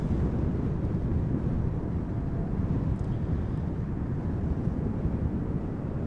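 Boeing 777-300ER airliner arriving at Amsterdam Schiphol in crosswind, a broad, steady low roar of jet engines blended with wind noise, moderately distant and unbroken.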